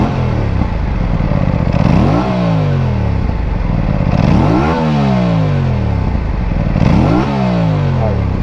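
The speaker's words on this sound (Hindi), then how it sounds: "एक बार आपको इसकी आवाज़ सुना देता हूँ। तो ये बाइक मैंने ऑन कर दी है," An Aprilia RS 457 motorcycle engine runs at idle and is revved hard three times, each rev rising and falling in a clear sweep, loud and close with no talk.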